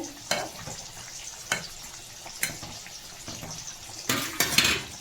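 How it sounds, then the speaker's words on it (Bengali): Potatoes sizzle in a small karai, fried for a meat curry, with a steady crackle broken by several sharp scraping stirs and a louder burst of frying near the end. "এদিকে মাংসের জন্য আলু ভাজছি"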